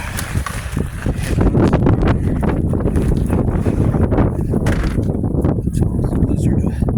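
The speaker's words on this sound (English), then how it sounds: "It's not as windy as I thought it was going to be," Strong blizzard wind roars and buffets a microphone outdoors, a steady loud rushing with gusty swells throughout and no clear talk.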